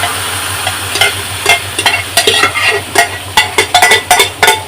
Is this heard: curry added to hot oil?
yes